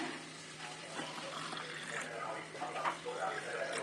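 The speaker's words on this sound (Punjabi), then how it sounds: "ਹੁਣ ਇਸ ਵਿੱਚ ਪਾਣੀ ਮਿਲਾਵਾਂਗੇ" Water pours in a steady, soft stream into a mix of fennel powder and other ground ingredients being made into fennel sharbat, a low continuous wash heard close up.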